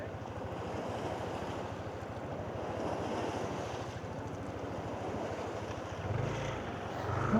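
Strong waves wash against a baywalk after monsoon rains, a steady rushing surf roar mixed with gusty wind buffeting the microphone.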